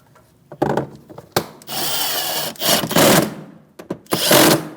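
A power tool drives bolts into the inner fender liner of a 2016–2025 Chevrolet Malibu at the subframe, in several loud, close bursts of whirring with short pauses between them.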